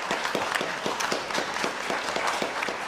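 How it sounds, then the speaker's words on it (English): Applause from a high school spring concert audience fills the room: steady, close clapping from many hands with a loose, even rhythm and no voices over it. "You get an applause before you've even done anything."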